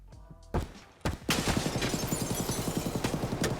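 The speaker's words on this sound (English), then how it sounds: "Oh yeah, there's shots above us." Gunfire in the video game Escape From Tarkov: two sharp single shots, then a sustained burst of rapid, evenly spaced automatic rounds that continues to the end, loud and fairly close.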